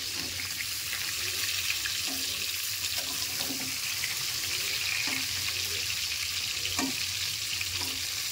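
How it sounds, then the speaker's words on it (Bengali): Pointed gourd (potol) frying over high flame in a pan, a continuous loud hiss of hot oil with soft scraping and tapping as the pieces are turned, no voices. "এবার আমরা পটলগুলোকে উল্টে নেড়ে দিই এক পিঠটা"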